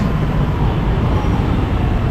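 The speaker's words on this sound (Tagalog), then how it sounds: "Grabe yung traffic." Heavy, congested road traffic on a bridge makes a continuous low rumble of engines and tyres, close and fairly loud, with no talking.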